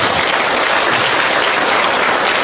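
A large audience claps in a dense, continuous roar of applause at a Lunar New Year fire-safety appreciation event, loud and unbroken throughout with no distinct voices on top.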